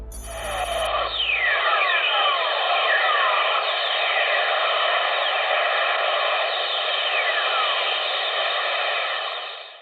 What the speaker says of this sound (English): This is what lightning sounds like on Earth from space as detected by spacecraft above Earth's ionosphere.